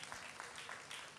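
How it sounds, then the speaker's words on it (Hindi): A studio audience at a singing competition show applauds, a brief, faint wash of steady clapping. "भाई तालियां हो जाए इसी बात पर।"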